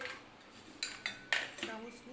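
A metal spoon stirs marinated mutton in a wok, making a few sharp scraping clinks against the pan over a quiet background.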